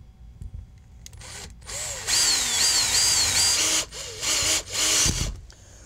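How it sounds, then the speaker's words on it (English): A power drill whirs in several short bursts with brief pauses between, drilling pilot holes for a door handleset, close and loud, its pitch rising and falling as it bites. "so I can go around and drill my pilot holes."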